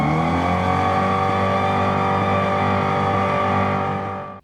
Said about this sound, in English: you hear the exhaust noise louder than the tire screech